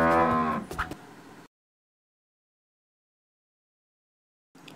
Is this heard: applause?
no